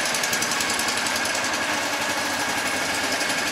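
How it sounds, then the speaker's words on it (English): An old car engine idles after a cold start in snow with the choke off. It gives a steady, rapid, close mechanical chatter that stays even and loud throughout, with no talking. "that's ticking over normally, and the choke is off, so we'll leave that to run for a bit."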